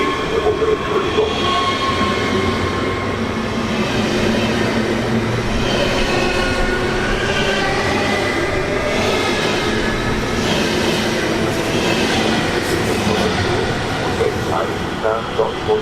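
An S1 S-Bahn train at Düsseldorf Airport station rumbles and clatters along the platform, a loud continuous roll with faint wheel squeal, while a platform announcement plays over it.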